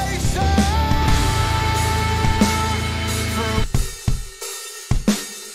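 Programmed drums from Addictive Drums 2 play in a dense, loud mix with sustained tones, then break into a few separate, sharper hits near the end.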